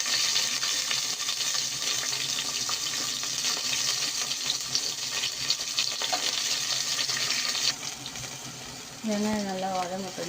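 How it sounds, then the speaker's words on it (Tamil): Onions and green chillies sautéing in hot oil for veg biryani, a steady close sizzle and frying hiss throughout with occasional stirring, dipping near the end as a voice briefly speaks over it. "வெங்காயம் நல்லா வதங்கட்டும்."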